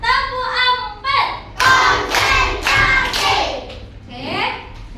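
Children's voices chant rhythmically in a classroom while a group claps along, bursts of hand claps and thumps mixed with loud, close voices.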